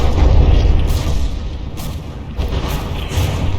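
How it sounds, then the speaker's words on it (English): Mortar shells exploding in a battleship fight in the game From the Depths, heavy low booms rumbling one after another in a dense, loud barrage with a few sharper cracks on top. "And those mortars hurt."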